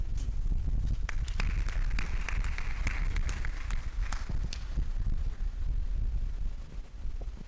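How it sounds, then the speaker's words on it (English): Audience applause at the close of a college lecture series talk, dense sustained clapping from a crowd filling the room, steady and loud throughout with no speech over it. "Let's sustain the applause."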